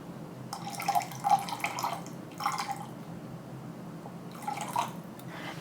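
Lime juice poured into a cocktail glass at home, heard as short bursts of liquid splashing and trickling, three separate pours with pauses between, close up and fairly quiet with no talking.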